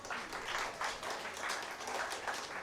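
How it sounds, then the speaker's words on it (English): Graduation-day audience at a degree college giving the graduates a big round of applause, a steady, fairly close burst of many hands clapping with slight swells in intensity. "Can we have a big round of applause to all of you?"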